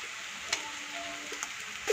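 Noodle ingredients fry in a pan in a home kitchen, giving a steady soft sizzle with a few faint clicks of a utensil against the pan and no talking.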